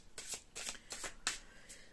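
Cards being shuffled for a card reading, several quick riffling bursts in close succession, crisp and near over about two seconds, with no talking.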